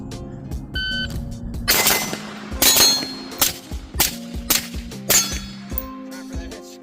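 Rifle shots from an FCD/Revival Defense 3 Prong rifle with an Otter Creek Labs Infinity 7.62 suppressor, each followed by a ringing clang off steel targets; about half a dozen sharp cracks with bright metallic pings and lingering resonance.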